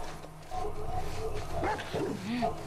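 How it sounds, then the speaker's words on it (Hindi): Dogs bark and yip in The Last of Us gameplay, several mid-distance barks and whimpers under someone talking. "कुत्ते लेके घूम रहे हैं साले"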